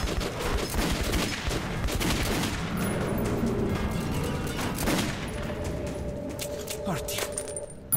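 Rapid automatic gunfire in the video game Metro 2033 Redux, close and loud, a dense continuous stream of shots with metallic clinks of spent casings.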